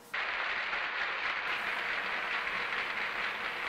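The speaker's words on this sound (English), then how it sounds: "No need to applause." Steady, loud applause that begins abruptly and keeps going as a dense, even wash of clapping without pause.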